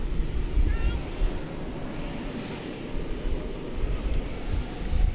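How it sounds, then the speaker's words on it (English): Delta Air Lines Airbus A220 airliner at DFW Airport, a distant low rumbling roar that swells and fades unevenly, with no talk over it. "A 3-year-old Airbus A220 Delta Airlines going to Salt Lake City"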